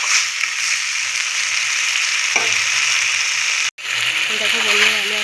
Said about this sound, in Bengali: এখন ভালো করে কষিয়ে নিচ্ছি সবজিটাকে